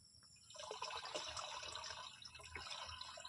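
Dissolved powdered pesticide solution poured into water for spraying jasmine plants, a faint trickling, splashing pour that starts after a quiet half second and runs steadily, softly, to the end.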